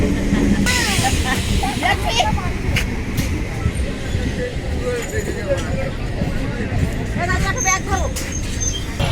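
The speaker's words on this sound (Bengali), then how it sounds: "দেখতে দেখতে ট্রেনও চলে আসলো" A train pulls into a station on the route to Canning, giving a loud, continuous rumble and rolling clatter beneath a busy crowd murmur with scattered voices.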